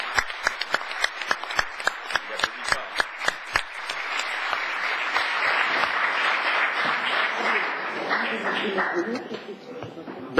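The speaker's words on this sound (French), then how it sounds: "Donc je vous propose d'applaudir les adjoints." Town council members applaud the deputy mayors at a mayoral installation session in Château-Thierry. A few sharp separate claps open it, then they swell into sustained, fairly close group applause before tapering off.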